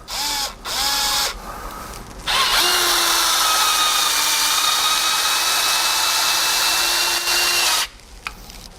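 A Snap-on CTS 725 hex-bit screw gun drives a screw into a board with no pre-drilled hole: a few short whirring bursts, then one long steady high-pitched motor whine lasting about five seconds before it stops, loud and close with no talking.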